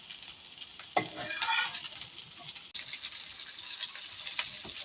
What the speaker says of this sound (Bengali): উল্টায় পাল্টা একটু ভেজে নেব যেহেতু সিদ্ধ করা আসছে বেশি ভাজার দরকার হবে না